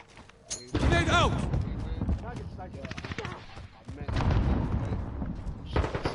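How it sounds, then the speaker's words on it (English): A grenade explodes in a PS4 shooter, mixed with gunfire. Several sharp, loud broadband bursts and rattling shots come in clusters, with voices around the action. "Grenade out."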